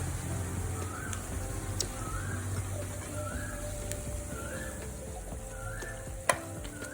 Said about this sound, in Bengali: এভাবেই বাকি সজনে ডালগুলোকেও আমি বেসনের মধ্যে লাগিয়ে নেব আর তেলের মধ্যে দিয়ে দেবো আর মিডিয়াম আছে পাকোড়াগুলোকে ভেজে নিতে হবে